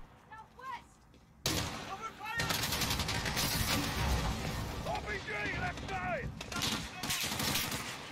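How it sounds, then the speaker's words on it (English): Dense gunfire bursts in a Modern Warfare video game battle, loud sustained volleys breaking out after a quieter start, with voices calling out over the shooting. "Bravo, we're getting sniped on."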